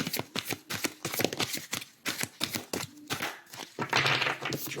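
Oracle deck cards, two decks mixed together, are shuffled in quick, steady riffling bursts of crisp papery flicks, close and continuous with no talk.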